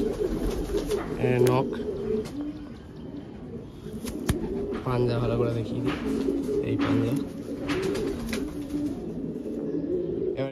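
Pigeons, including a female, coo in repeated low throaty phrases close by while someone talks over them throughout.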